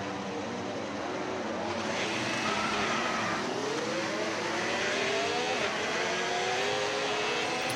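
Formula 1 race cars on the formation lap of a sprint race, engines droning loudly and continuously with rising and falling pitch as cars pass, no speech over them.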